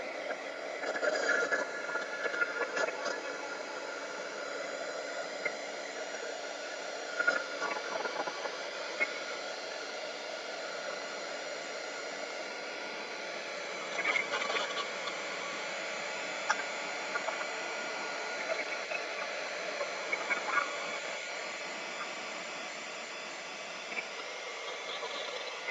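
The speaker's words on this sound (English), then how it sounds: "And you turn on your dryer." A hair dryer blows steadily over a covered napkin Christmas craft, a continuous close-up whooshing hiss that runs unbroken for the whole stretch with only small ticks and bumps.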